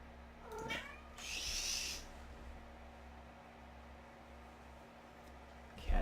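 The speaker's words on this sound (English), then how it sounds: "Cat's getting anxious." A cat meows indoors in a workshop: one anxious meow, moderately close, over a steady low electrical hum, then quiet with faint background noise.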